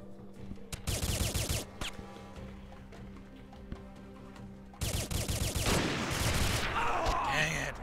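Bursts of rapid gunfire in the video game Modern Combat 2, two loud clusters of shots separated by a quieter stretch with scattered single reports, fairly close and dominating the mix.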